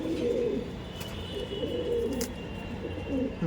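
Andhra breed pigeons coo softly and repeatedly in low, rolling murmurs, several birds together over a steady background hum, with a couple of faint clicks.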